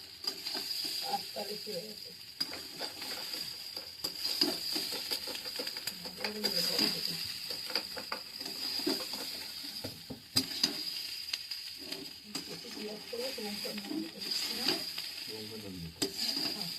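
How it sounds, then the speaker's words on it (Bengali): Pasta being stirred in a small wok, with steady scraping and soft sizzling running throughout, close and moderately loud, with occasional sharper knocks of the utensil against the pan. "পাস্তাটা দিয়ে দিয়েছি, একটু নেড়ে নিয়েছি"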